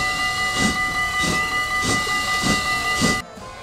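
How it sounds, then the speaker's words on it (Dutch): Steam train chuffing rhythmically as it pulls away from a level crossing on the Goes–Hoedekenskerke line, five evenly spaced exhaust beats over steady hiss and tonal whistle-like hum, cutting off abruptly near the end. "dan pas gaat de trein weer rijden"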